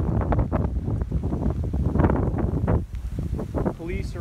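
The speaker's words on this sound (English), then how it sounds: "It is really windy, guys." Strong storm wind gusts roar and buffet the microphone in uneven bursts, with a faint high tone briefly near the end.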